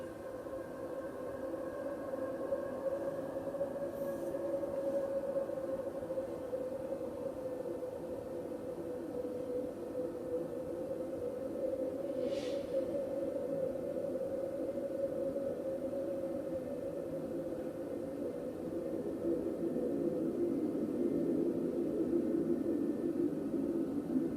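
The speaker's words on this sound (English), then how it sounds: "Saturn has an eerie, bold sound of wind and tone." A steady, eerie hiss with a sustained low hum runs throughout, like wind mixed with a droning tone, unchanging and without voices; a space recording of Saturn.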